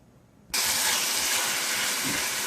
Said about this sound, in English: I'm going to saute up my ginger, the white parts of my scallion, and my garlic.